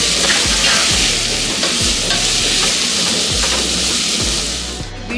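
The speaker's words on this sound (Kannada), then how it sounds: "ಒಂದು 2ರಿಂದ 3 ನಿಮಿಷ ಇದೇ ರೀತಿ ಇದನ್ನು ಫ್ರೈ ಮಾಡ್ಕೊಳ್ಳೋಣ" Beetroot stir-frying in hot oil in a pan, a loud steady sizzle with repeated scraping strokes of a spatula at a regular rhythm, close by and with no voices.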